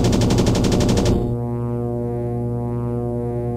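Rapid machine gun fire from a fighter plane in the flight combat game Aces Over Europe, a loud fast burst lasting about a second that cuts off into a steady droning engine tone.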